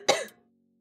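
One short, sharp cough from a person, close and fairly loud, trailing into a brief strained tone, then quiet before a faint sound at the very end.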